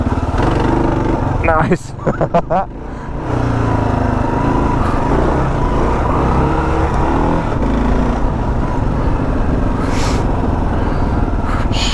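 A Kawasaki KLR 650 motorcycle rides off road, its engine droning steadily and close with rough throttle changes throughout, while a rider's voice breaks in briefly near the start.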